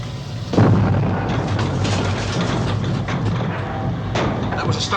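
A heavy explosion strikes a submarine's starboard turbine, a loud booming blast followed by a rumbling, roaring aftermath with further thuds, while voices speak over the din.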